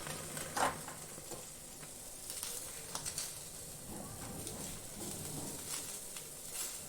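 Fish pieces for smoky macher jhal sizzle steadily in an oil pan, with faint scrapes and soft clinks as they are turned one by one; no talking.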